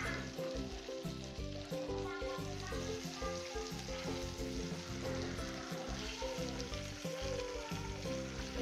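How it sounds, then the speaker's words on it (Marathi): Pieces of vam fish frying in hot oil in a pan, a dense, continuous crackling sizzle with small pops throughout, steady and close, without any talking. "त्याच्यानंतर एक एक मासा त्या तेलामध्ये सोडायचा आणि चांगला तळून घ्यायचा"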